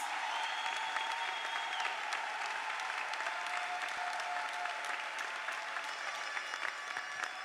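An audience at a school prize-giving ceremony in Kinshasa claps steadily for an award-winning student walking up, a sustained, even wash of applause heard from some distance with faint tonal hum beneath.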